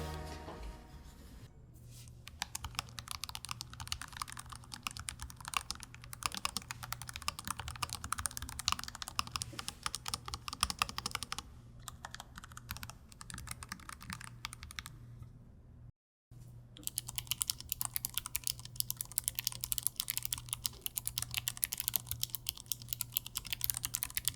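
Steady, fast typing on an ASUS ROG Falchion RX low-profile 65% wireless keyboard with silicone foam in the base, soft dense key clicks continuing throughout with a couple of brief pauses, close and clear.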